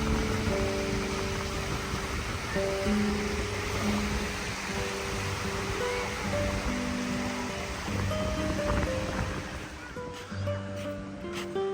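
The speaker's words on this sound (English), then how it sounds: "Certainly a lovely long beach here." Surf washing along a long sandy beach at Port d'Alcudia, Majorca, a continuous broad wash of waves heard up close, with faint background voices and tonal hum mixed beneath the steady roar.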